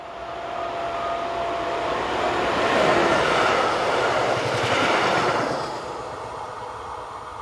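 Railway locomotive 203001 of track maintenance operator Leonard Weiss passing by, a steady rumble that swells to a peak midway and then fades, with no talk.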